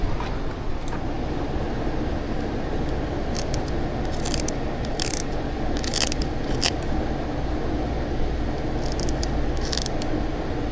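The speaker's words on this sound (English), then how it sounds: "Cut it right here at my thumb." Thick material being cut for a modified truck, heard as a steady coarse rasping and crunching that runs throughout, with sharp snips and clicks scattered across it, close and fairly loud.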